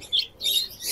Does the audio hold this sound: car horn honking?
no